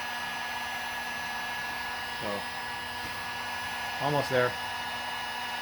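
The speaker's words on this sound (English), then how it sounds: "it works fairly quickly here with the heat gun" A heat gun blows hot air over PVC pipe, a steady close whooshing hum running throughout with brief speech over it.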